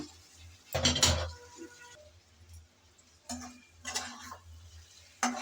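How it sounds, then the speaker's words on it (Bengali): A spoon scrapes and clinks in a pan as shrimp heads are stirred into softened tomato, giving a few short metallic bursts with quiet gaps between them, close by and with no voice. "এখন আগে থেকে রেডি করে রাখা চিংড়ি মাছের মাথাগুলো দিয়ে দেব মাথাগুলো সব দিয়ে দিলাম"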